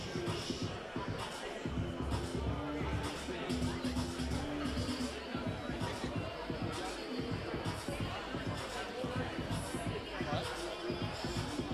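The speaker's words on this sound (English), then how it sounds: "A lot of passionate people in the crowd here." A passionate crowd at a club boxing match keeps up a steady murmur of chatter and cheering, with people talking loudly nearby throughout.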